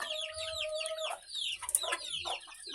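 Hens cluck in quick, chattering bursts with a rising squawk in the middle, close by and fairly clear, low farmyard rumble underneath, near young chicks.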